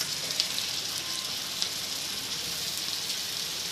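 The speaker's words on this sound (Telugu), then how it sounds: "ఇప్పుడు బెండకాయ ముక్కలు వేసుకుందాము." Okra pieces fry in a pan with onions, a close, steady hissing sizzle with faint crackles and pops throughout.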